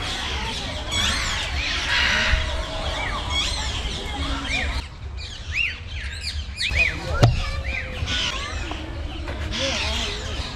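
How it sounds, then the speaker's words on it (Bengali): Large swans call from a pond at a small zoo picnic spot, loud honking and squawking calls repeating over a constant outdoor wash of chirping birds and crowd background. "সামনের খাজারাতে রাজহাঁস দেখা যাচ্ছে, বিশাল বড় বড়, গলা তুলে দাঁড়িয়ে রয়েছে"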